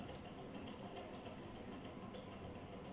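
Steady broadband rubbing and hissing of a board being wiped clean during a physics lecture on electric dipoles, continuous and even for the whole stretch with no speech.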